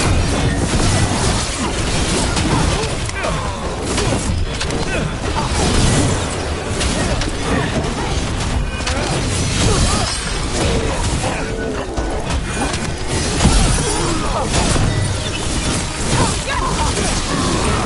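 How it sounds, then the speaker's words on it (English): Cannon fire impacts in Dragon Age: The Veilguard, a dense, loud, continuous barrage of crashes, booms and shattering debris with no break, under faint voices. "Cannon fire! Get clear!"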